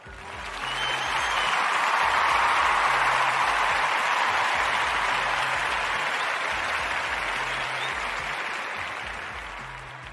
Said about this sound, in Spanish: así que el aplauso es para ustedes.